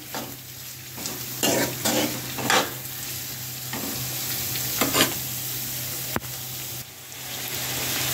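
Fenugreek seeds hit hot oil in a pan and crackle, bringing up a steady close sizzle broken by several short bursts and a brief sharp clink. There is no talk.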